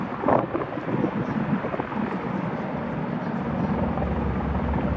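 A Sikorsky S-76 helicopter hovers nearby while holding for a T-6 Texan squadron to land, a loud steady rotor and turbine roar with wind buffeting the microphone, continuous throughout.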